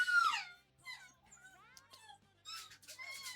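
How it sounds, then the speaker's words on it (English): A dog whimpers in a series of faint, high, wavering whines, with short pauses between them. "We can fully hear the dog."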